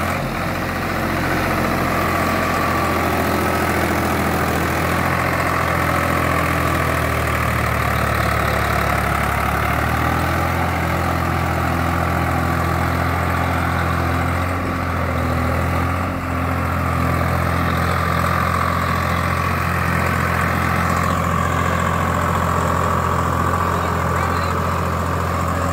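A Swaraj 744 tractor engine idles steadily with a continuous low rumble, close and loud throughout, with a slight shift in tone near the end.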